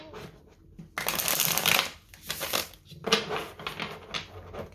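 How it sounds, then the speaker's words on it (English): Tarot cards are shuffled up close in several quick riffling bursts separated by short pauses, crisp and papery with no talk. "Okay, so I'm going to get into your tarot cards now."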